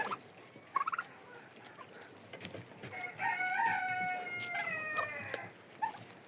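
Turkey calls ring out in a snowy winter chicken coop, a few brief clucks early on, then a sustained run of high warbling calls in the middle and a short burst near the end, close and fairly clear with no talking.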